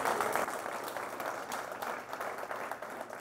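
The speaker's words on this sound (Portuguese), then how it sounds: "dê um aplauso a Jesus bem forte" A church congregation claps loudly for Jesus during a worship service, a full, continuous burst of applause that eases off slightly toward the end.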